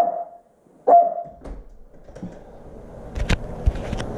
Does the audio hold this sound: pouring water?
no